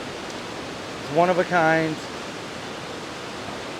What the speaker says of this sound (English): Here we are, Chittenango Falls.